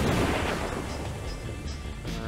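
Rifle fire in the zombie survival game Dead Age, a single heavy booming shot that decays over about two seconds.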